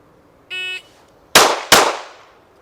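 A short electronic shot-timer beep sounds, then two rapid, sharp, close gunshots from a defensive handgun crack out less than half a second apart and ring off into a quiet background.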